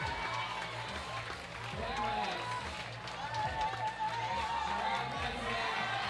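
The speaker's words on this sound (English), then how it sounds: "Everybody's shouting, everybody's applauding," Crowd noise at a bouldering competition final, with a steady roar of shouting, cheering and clapping throughout under a commentator's voice.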